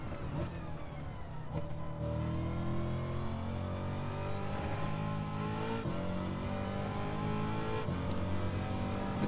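A seven-gear racing car at Watkins Glen in a driving game, its engine droning loudly and steadily with rising and falling revs through gear changes, close and continuous with no talk.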